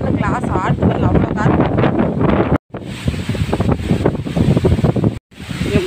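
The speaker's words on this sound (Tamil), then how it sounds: "காற்று ஆளை தூக்குற காற்று வீட்டுக்குள்ளே போயிடும்." Strong outdoor wind buffets the microphone in a continuous roar during outdoor cooking of a greens soup, while someone talks over it almost throughout.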